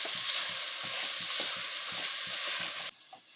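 Onions and tomatoes frying in a pan for a spicy chicken curry, giving a steady, close hiss of sizzling with soft stirring knocks throughout, the sizzle dropping abruptly near the end.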